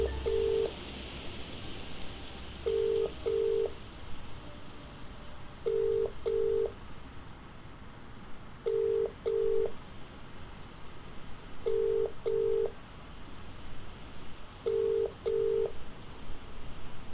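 A telephone call to the police chief in the game Contradiction, with the line's ringing tone sounding in short double pulses, repeated evenly about every three seconds over a low background hum.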